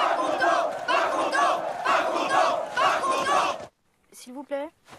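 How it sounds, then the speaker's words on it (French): Angry crowd storming the Bastille: a loud mass of overlapping shouting voices for several seconds, breaking off abruptly before a few short, separate cries near the end. "mais quand la foule en colère arrive, les choses dégénèrent."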